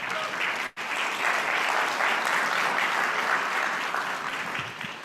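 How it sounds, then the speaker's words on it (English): Steady applause from a crowd, clapping continuously at moderate volume with a brief dip near the start. "I'll give him a youthful round of applause"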